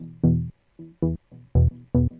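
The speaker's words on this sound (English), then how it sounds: "So I have this little synth line, nothing special." A simple synthesizer melody of short, bright, buzzy notes in a steady rhythm, each note clearly separated by brief silences.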